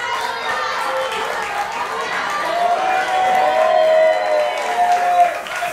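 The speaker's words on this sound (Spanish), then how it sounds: "un fuerte aplauso aquí" Crowd applause at a regional motorcycle racing trophy ceremony, a steady mass of clapping and cheering that swells slightly midway, with voices chattering throughout.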